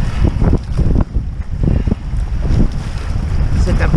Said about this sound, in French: Ce vent qu'on a quand même majoritairement dans le dos